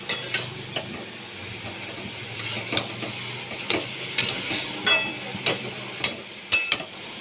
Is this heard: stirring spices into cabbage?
yes